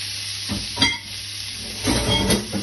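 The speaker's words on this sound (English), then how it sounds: "we add in the mince, the Bex mince from NNC" Beef mince dropped into a hot pan for arancini filling, with soft stirring scrapes and a low sizzle rising in short bursts.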